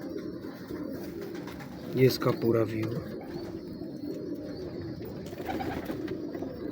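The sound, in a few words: pigeons cooing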